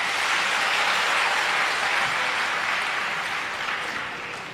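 Audience applause at a talk fills the room, a dense, steady clatter of many hands that starts full and slowly fades toward the end, with no voices over it.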